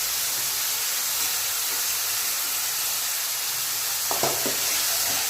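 Pasta ingredients stirred and mixed in a hot pan, giving a steady, close, loud sizzle and hiss with a few brief scraping taps near the end, with no talk.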